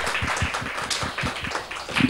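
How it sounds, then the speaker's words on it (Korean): A church congregation claps in a steady rhythmic beat, the massed hand claps close and fairly loud over a short stretch. "박수."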